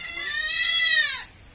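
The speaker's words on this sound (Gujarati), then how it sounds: "આ બકરો હે" A male goat gives a single loud, close bleat lasting about a second, with nothing else heard around it.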